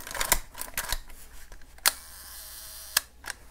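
Film advance and shutter of a Wide-Angle Rolleiflex camera, recently overhauled: a run of quick mechanical clicks and winding ratchets, then two sharp isolated shutter snaps, close and crisp with no voices.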